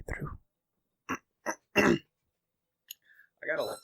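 Close, dry throat clearing from a person recording a whispery ASMR session, a few short separate rasping bursts in near silence, followed by a brief voiced sound at the end.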